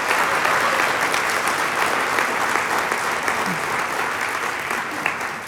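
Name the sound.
congregation applause in a church sanctuary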